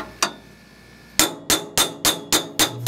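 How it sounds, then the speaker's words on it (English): Hammer taps on a stainless steel header tube, seating it onto a flange during a drag boat header build: one sharp metallic strike, a pause, then six evenly spaced ringing taps, close and clear. "We'll tap on it a little more, get that to touch"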